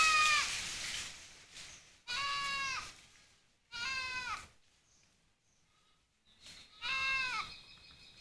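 Goats bleating in several loud, wavering calls spaced a second or two apart, close by, with quiet gaps between, during tree cutting for grazing.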